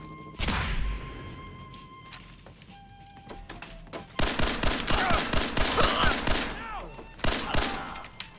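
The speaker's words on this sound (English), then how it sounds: "Somebody's out there shooting them." Gunfire in Fallout 4, with one loud opening shot, then a sustained rapid burst of automatic fire and a few more cracks near the end, all loud and close over game ambience.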